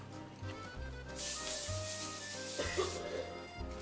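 A broad, steady hiss of cooking spray sprayed into a pan lasting a couple of seconds, close by, with faint background hum and a soft clatter near the end.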